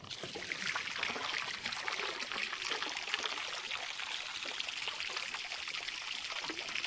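Shower water runs steadily for an emu named Stompy, a continuous hiss and patter at moderate level with no break.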